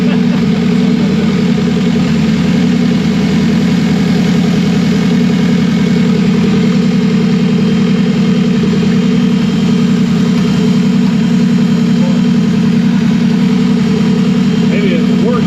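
Drag car engine idling after revving, a loud, steady low rumble with a lumpy rhythmic throb that holds unbroken throughout, close by and dominant.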